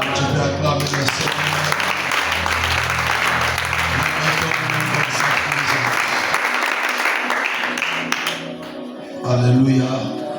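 A church congregation applauds to acclaim the Lord: dense, sustained clapping from many hands fills the room for about eight seconds, with voices and low tones underneath, then fades into quieter murmuring.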